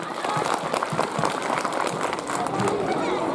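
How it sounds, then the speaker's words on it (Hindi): Loud, steady applause from a school annual-function audience, dense clapping sustained throughout with crowd noise mixed in. "कोमल और उसकी सहेलियों के द्वारा एक बार जोरदार तालियां हो जाए।"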